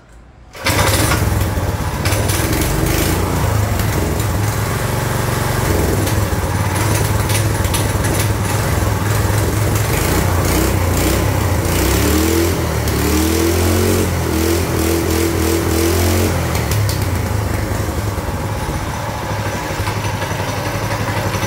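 A small stationary engine fitted to a bicycle starts after a brief quiet moment and then runs steadily and loudly, a buzzing, rattling putter like an old motorcycle, continuous with slight wavering in pitch and no talk.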